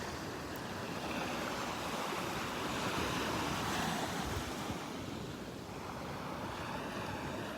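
Gentle surf washes onto a flat Gulf of Mexico beach at Vanderbilt Beach in North Naples, Florida, in the early morning, a steady soft roar of small waves with some wind buffeting the microphone and no voices.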